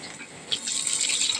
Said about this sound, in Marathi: बघा पाणी ओतताय आहे